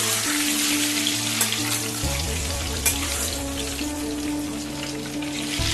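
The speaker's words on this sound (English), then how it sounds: "We fry the eggs till they're golden brown, lightly golden brown." Scored eggs frying lightly in a pan until golden brown for an Indian malai egg dish, giving a steady, close sizzle throughout with soft background music underneath.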